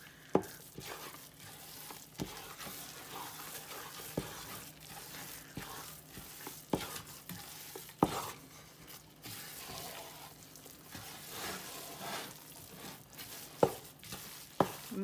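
A spoon stirs and scrapes a thickening flaxseed mixture in a pan, with repeated soft scraping strokes and occasional sharper clicks against the metal over a faint sizzle, close and fairly quiet.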